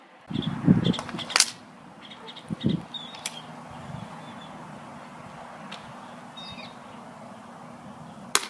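An airsoft gun fitted with an aluminum inner barrel fires a few quick test shots, sharp faint snaps with mechanical clicks, followed by quiet room noise.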